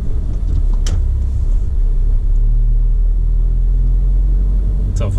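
A car driving steadily through town during a driving lesson, with a constant low engine and road rumble close inside the cabin and a couple of brief clicks, no talking.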